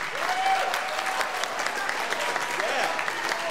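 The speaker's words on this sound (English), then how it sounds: "One more round of applause." Audience applause at a middle school spring band concert after an award is announced, a dense, even spread of clapping from a large room, steady throughout with faint voices in it.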